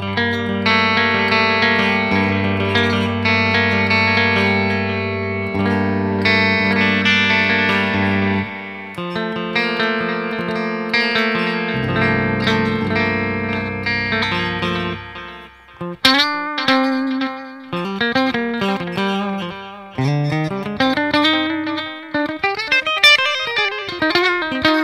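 Electric guitar played through a MAK CST delay pedal, with sustained chords and then picked melodic runs, each note trailing repeating echoes, loud and steady throughout with no talk.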